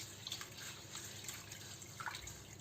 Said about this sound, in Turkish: Pilavımızı bol suda ilk önce şöyle bir karıştırıyorum.